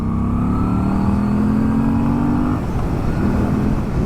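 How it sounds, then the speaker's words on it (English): A 2022 Moto Guzzi V7 Stone engine revs up close by, a deep, throaty rising drone climbing in pitch for a couple of seconds before dropping back and swelling again briefly. "it's got a really nice noise to it when you bring the revs up. Quite a deep, throaty engine noise."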